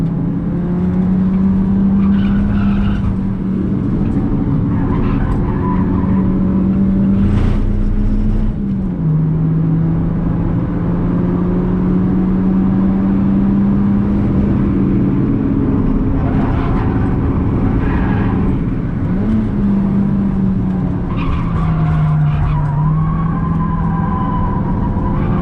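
A Mitsubishi CE Lancer pushes hard around a race track lap, its engine droning loud and steady inside the cabin, the pitch rising through each gear and dipping sharply at shifts, with no talking.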